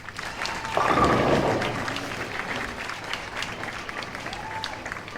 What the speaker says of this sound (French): Des applaudissements s'il vous plaît pour Maria Metaksinova.